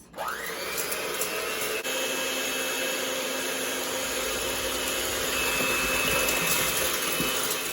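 An electric mixer whipping egg whites with sugar for macarons into stiff peaks, a steady loud motor whir that starts abruptly and holds constant throughout, with no talking.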